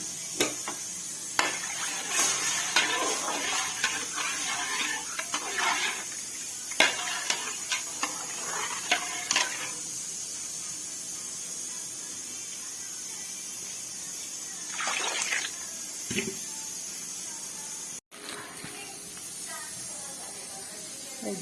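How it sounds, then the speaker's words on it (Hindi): Water pours from a jug into a pot of beef nihari, making a steady hissing splash with scattered clicks and clinks, moderately close. "पानी डालेंगे।"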